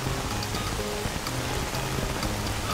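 Steady rain falling in a modded STALKER video game, a dense, even hiss of drops on surfaces that carries on uninterrupted, with no talking.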